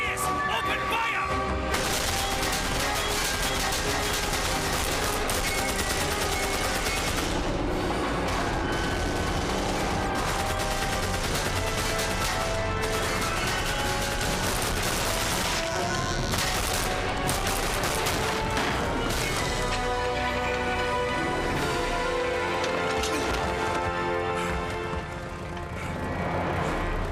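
Sustained, dense gunfire in Wolfenstein (2009), a loud continuous fusillade of overlapping shots mixed with music and battle noise for nearly half a minute.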